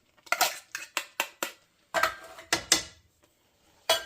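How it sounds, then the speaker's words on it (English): A utensil scrapes and clinks against a pan while stirring and breaking up canned tuna, in a string of sharp close taps and scrapes with short gaps between them. "And then we'll just stir that in, break it up."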